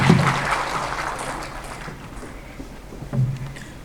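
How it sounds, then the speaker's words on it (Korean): Audience applause after a pharmacist's lecture at a Korean medical seminar, a steady wash of clapping that fades somewhat and then swells briefly near the end. "저희 장봉근 약사님께 다시 한번 큰 박수 부탁드립니다"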